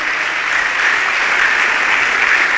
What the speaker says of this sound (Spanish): Nosotros le damos un fuerte aplauso al Señor